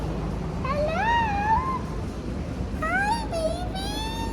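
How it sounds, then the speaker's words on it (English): Farm cats mew in a couple of short rising-and-falling calls, the first around a second long and then a pair of quicker cries, heard fairly close over a constant background hiss. "Look at those kitties!"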